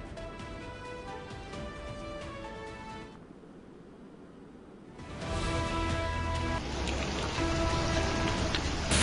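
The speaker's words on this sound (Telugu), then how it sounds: "రాత్రి కురిసిన భారీ వర్షానికి హైదరాబాద్ అతలాకుతలమైంది." Heavy overnight rain pouring down in Hyderabad, a dense steady hiss that drops off briefly midway, then returns louder and fuller, with no voices.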